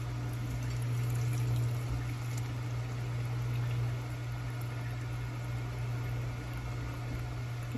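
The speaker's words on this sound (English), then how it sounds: "hold this so it doesn't come off, and then you just pour your coffee right in" Coffee poured from a French press into a cup, a steady liquid trickle over a constant low mechanical hum, moderately close and continuous without talk.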